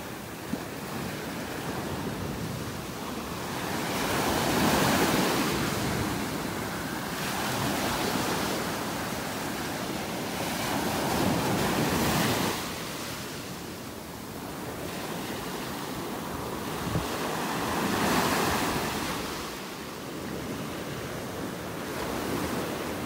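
Large waves break repeatedly on a North Naples, Florida beach, the surf roar rising and falling in rolling surges every few seconds, with wind rumbling on the microphone and no talking.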